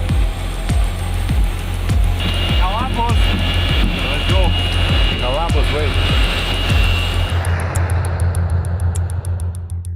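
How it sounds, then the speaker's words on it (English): A team charter jet lands at night, its engine roar loud and steady throughout as the aircraft comes down; people talk over the sustained rumble, which thins toward the end. "The plane landed around midnight, roughly 19 hours after Dana Heinze started his shift."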